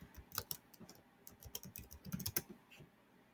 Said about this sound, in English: I type a name of the band or the song I want to find